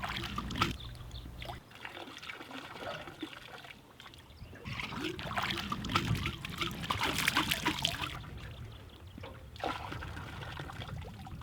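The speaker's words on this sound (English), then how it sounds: "screw the bottle onto a pole and rinse the bottle at least 3 times" A water sampling bottle screwed onto a pole is dipped and rinsed in a river near the Kotlik landfill, making gurgling trickles and splashes that swell in the middle and ease off, over a soft outdoor background.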